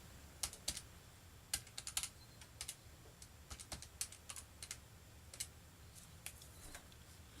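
Numbers typed on a computer keyboard: brisk, irregular clusters of light key clicks, fairly close and quiet, over a low steady room hum with no talking.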